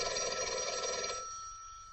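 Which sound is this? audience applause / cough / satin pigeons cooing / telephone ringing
telephone ringing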